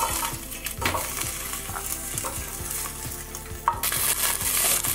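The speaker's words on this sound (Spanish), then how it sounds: "Vamos a agregar la cebolla y el ajo." Onion and garlic fry in hot oil in a pan, a steady loud sizzle with occasional stirring scrapes and a brief clatter, close and continuous with no talking.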